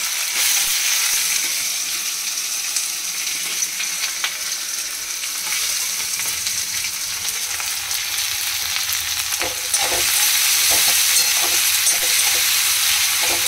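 Onion frying in ghee with whole garam masala, a continuous loud sizzle and crackle with occasional stirring scrapes, getting a bit louder toward the end, no talking.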